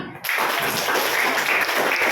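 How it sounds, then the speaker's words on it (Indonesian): A classroom of students breaks into applause, a dense, steady clapping that starts suddenly and stays loud and even throughout, with no talk over it. "Ya, tepuk tangan."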